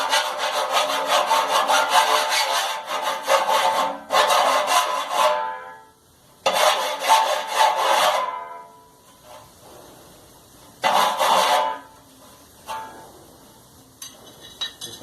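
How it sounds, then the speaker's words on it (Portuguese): A hand file, size 16, rasps along a blade edge in long repeated strokes with short pauses between, close and clear, ending in lighter scraping and faint clinks. "Vou pegar uma lima, 16. Ó, peguei a lima."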